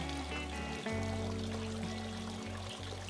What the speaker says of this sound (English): I feel like that's always a satisfying pour in